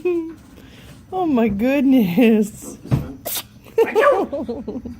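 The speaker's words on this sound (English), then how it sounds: "Oh, he's going to sneeze again." A lemur sneezes in short, sharp bursts between a woman's close, sympathetic talk, the sneezes coming as quick snorts partly under her voice.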